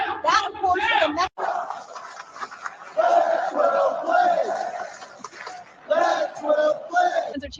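A stadium crowd of football fans at an NFL game chants a repeated phrase in loud, rhythmic bursts, with short breaks between the chants.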